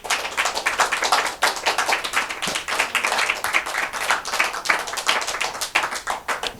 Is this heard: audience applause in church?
yes